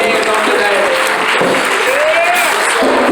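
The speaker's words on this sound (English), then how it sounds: "Just clap your hands on today." A church congregation claps together at a memorial service, loud steady applause with voices and a tonal musical line mixed in beneath the clapping.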